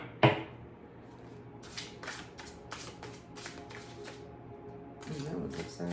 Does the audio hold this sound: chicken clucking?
no